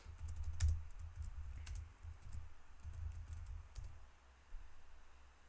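Quiet, irregular keystrokes tap on a computer keyboard in a few scattered bursts, faint and close, with no talking.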